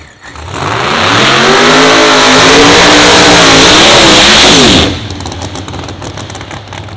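A procharged 540 Hemi in a 1966 Chevelle door-slammer drag car roars at full throttle down the strip at Byron Dragway, loud and sustained for about four seconds before cutting off abruptly into a lower, rumbling idle.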